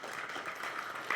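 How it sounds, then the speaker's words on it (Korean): Quiet, distant applause from an audience welcoming guests at a Korean independence declaration anniversary ceremony, a soft, even patter of clapping in a large hall with one slightly louder burst near the end. "박수로 환영해 주시기 바랍니다"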